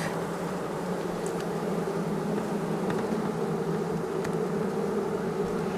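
Honey bees buzz steadily inside an opened hive that is short of food, a dense continuous drone with occasional closer individual buzzes passing by.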